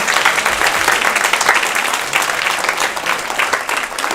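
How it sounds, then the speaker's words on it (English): A crowd at a saxophone and flute arangetram gives sustained, dense applause, many hands clapping continuously and fairly loudly, with no break. "So they need a big round of applause."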